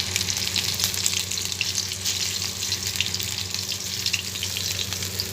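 Spiced fish tikka kabab frying, a steady, close hiss of sizzling oil that crackles without pause throughout.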